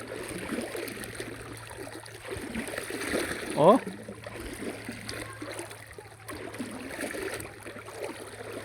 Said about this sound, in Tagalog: Yan ang dagat oh.